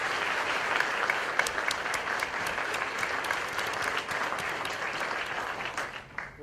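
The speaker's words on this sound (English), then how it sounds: "can we please give the competitors a round of applause?" A crowd at the AMCA 2013 National Championship applauds the competitors with dense, sustained clapping that holds steady for several seconds, then thins and fades out near the end, with no talking.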